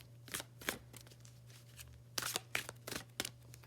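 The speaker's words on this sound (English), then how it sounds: "One more shuffle." Tarot cards are shuffled in quick, crisp riffling bursts, a couple of separate flurries of papery slaps close by, with no talk.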